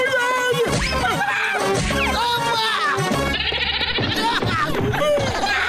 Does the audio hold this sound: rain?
no